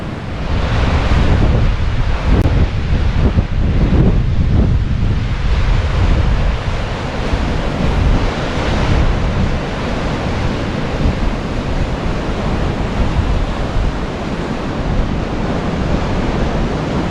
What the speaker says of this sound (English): 10 minutes or so of waves crashing onto the beach